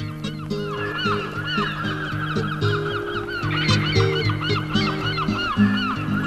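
Many migratory waterfowl in Alaska, geese by their calls, honk over and over in a dense, overlapping chorus that runs loud and steady the whole time, with no voices.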